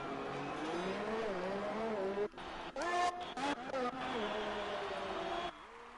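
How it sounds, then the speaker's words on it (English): F1 race cars in the pit lane of a Singapore racing video game whine continuously with shifting engine pitch and brief tire squeals, and a commentator's voice runs over them. "All sorts of cars in the pit right now."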